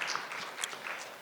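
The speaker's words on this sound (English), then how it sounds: "Can we give one more big round of applause to Dr. Murthy and to Pooja" Audience at a summit lounge session applauds after a talk, a brief, fairly soft patter of clapping with a few sharper individual claps standing out.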